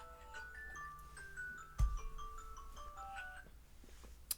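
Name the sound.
alarm going off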